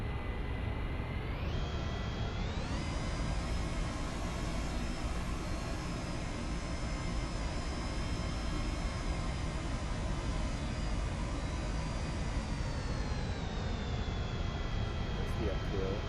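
Jet airliner in a flight simulator game taxis along the ground, a continuous engine roar with a rising whine that climbs early and eases off near the end, steady throughout.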